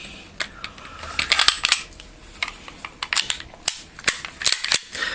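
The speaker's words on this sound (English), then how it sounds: "Let's go ahead and put the slide back on." The slide of a Beretta 92 FS pistol is fitted back onto the frame, giving a series of sharp metallic clicks and snaps in irregular bursts, close and crisp against a quiet background.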